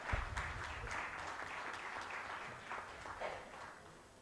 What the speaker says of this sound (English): May I request a warm round of applause for our session chair.